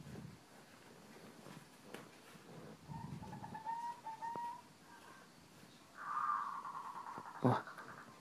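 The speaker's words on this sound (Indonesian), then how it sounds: "itu tadi suara perkutut ya." A zebra dove (perkutut) gives soft, distant coos, a few short tonal phrases and then a longer one, faint above light background noise and wind.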